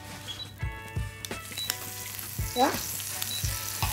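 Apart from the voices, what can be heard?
butter sizzling in a frying pan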